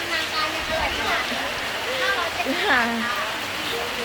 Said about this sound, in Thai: บรรยากาศนะคะฝนตกฝนพรำเลยวันนี้